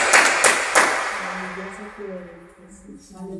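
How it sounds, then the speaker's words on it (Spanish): A few sharp, loud claps from a church congregation at the start, then fading out as voices take over at a lower level. "Dale un aplauso al Señor con todo su corazón."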